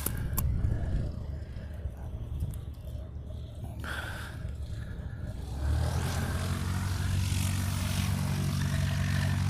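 A Boeing 717 jet airliner taxiing out to the reef runway in Hawaii, heard as a steady engine whine and roar that swells louder and nearer partway through and then holds.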